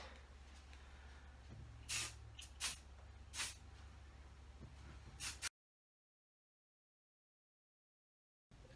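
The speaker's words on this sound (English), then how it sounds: "I also haven't used the Monat hairspray before. I just ordered it, so let's see. It says to use it in small bursts." Monat hairspray hisses from a can in four short bursts, close and fairly loud, followed by a stretch of silence.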